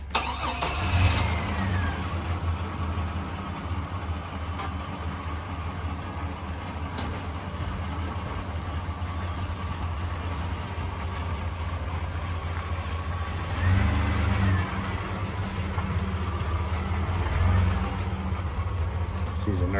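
Engine of a 2000 Chevrolet S-10 pickup truck rumbles steadily at moderate distance, with brief revs swelling as it pulls away; voices are faintly audible beneath it.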